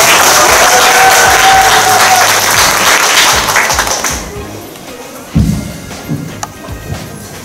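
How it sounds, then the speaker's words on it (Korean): Audience at a student interpretation presentation applauding loudly and densely for about four seconds, then fading to a quiet room with a few scattered thumps and knocks. "Let's give a hand to a sincere and confident student, Yoon So Che with Ms. Taeyong Jung."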